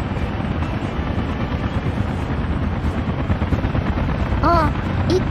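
Eight helicopters lift off together in the Soviet city-builder game Workers & Resources: Soviet Republic, producing a dense, steady rotor rumble throughout with faint bird-like chirps near the end.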